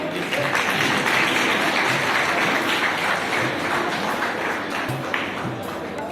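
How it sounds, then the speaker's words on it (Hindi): An audience applauds at a school science exhibition, a broad, steady wash of clapping that holds at even loudness throughout, with a few faint taps standing out. "Please make a round of applause."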